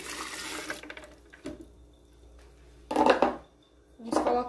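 Lemon juice splashes and pours into a blender in short bursts, separated by quiet pauses, with a brief clink of kitchenware nearby.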